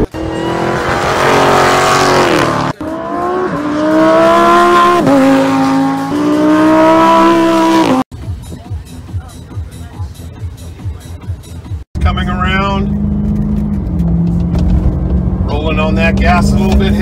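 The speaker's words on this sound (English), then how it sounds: "Full acceleration runs." A Nissan GT-R making full acceleration runs on a track, the engine climbing in pitch through several gears with abrupt shift cuts, loud and close, punctuated by a choppy, rough-running stretch mid-run.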